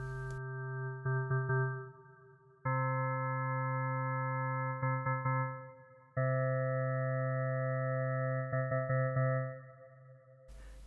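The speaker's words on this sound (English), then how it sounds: "the ability to create your own waves by adding sine waves together" Organ-like synthesizer tone built from added sine waves on an iOS synth app, sustained held chords that shift pitch a few times with brief flickering retriggers, clean and steady with no voices.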